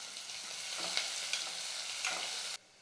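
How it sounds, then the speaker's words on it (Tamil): Finely chopped large onions sizzle and fry in hot oil for a goat intestine curry, with steady close-up crackling broken by a few louder stirring scrapes before stopping abruptly. "பெரிய வெங்காயம் அதையும் சேர்த்துக்கிறேன் வெங்காயம் வந்து நல்லா வதங்கணும்"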